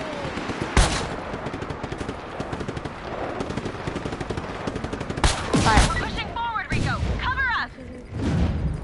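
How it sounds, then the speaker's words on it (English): Rapid machine-gun bursts and scattered shots ring out in Just Cause 3 during a firefight around a cargo plane, continuous volleys with a few louder booms, and voices talking over the action. "We're taking fire!"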